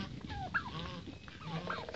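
A Muscovy duck calls with a few soft, breathy, raspy notes beside its homemade nest, heard close and moderately loud against a busy farmyard background with no talking.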